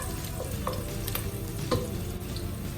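Garlic and onion fry in a pan for adobong bangus, sizzling softly and steadily at close range while a utensil stirs them with light scraping clicks, with no voices.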